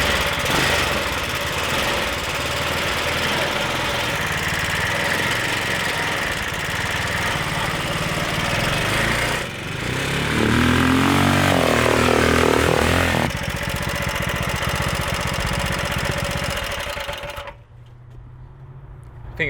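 An ATV engine fitted with a 420cc performance carburetor runs loud and close, a rough steady idle that revs up midway, drops back, then cuts off sharply near the end.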